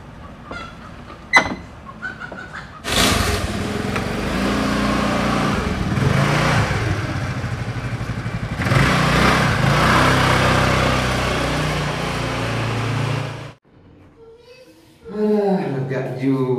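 A borrowed motorcycle starts up and rides off, its engine rumbling steadily for about ten seconds, surging once midway, then dropping away. Short sounds come before it and a voice follows after.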